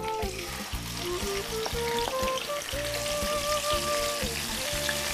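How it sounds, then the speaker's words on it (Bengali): Marinated chicken dropped into hot oil and ghee for Country Captain sizzles and spatters loudly, with a constant crackling fry and periodic stirring thumps beneath, close and unbroken by talk. "এবার এই চিকেনটাকে তেলটা গরম হলে পুরো দিয়ে দিতে হবে এর মধ্যে।"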